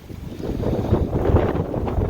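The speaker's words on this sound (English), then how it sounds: "It's really cold, really windy, and now snowing" Steady, roaring wind buffets the microphone, a continuous rushing gust with no voices, loud and close throughout.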